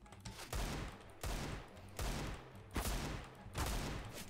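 Rapid gunfire bursts in Counter-Strike: Global Offensive, several loud volleys repeating roughly every second with sharp onsets, heard alone without talk.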